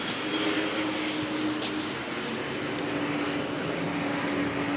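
A low-flying airplane passes over the sea at Étretat, a steady, fairly loud engine roar with a droning tone that holds through the whole stretch, with no talking.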